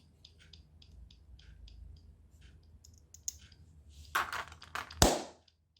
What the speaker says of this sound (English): It's clicking now.